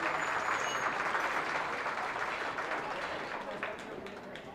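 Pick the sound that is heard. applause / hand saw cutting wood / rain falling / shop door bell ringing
applause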